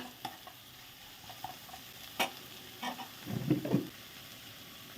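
Spice powders such as turmeric, coriander and chili are stirred into curry leaves frying in a pan, with a faint sizzle under scattered scraping and clinking stir strokes that grow busier toward the end.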